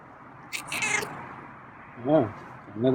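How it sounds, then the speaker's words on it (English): Two clear meows from a feral cat, close and fairly loud, with a brief higher rustle or squeak near the start between them. "Oh, another meow."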